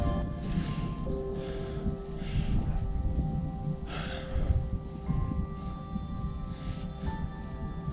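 Heavy, labored breathing of a trail runner who has just reached a 3006 m alpine summit in the Vanoise, with gasps and snorts repeating through the clip, close and moderately loud against faint wind.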